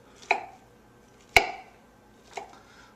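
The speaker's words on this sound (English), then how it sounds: "I'll cut them all up" A knife cuts through a log of herb butter into medallions on a cutting board: three separate, crisp chops about a second apart, each a sharp thud with a short ring-out in a quiet room.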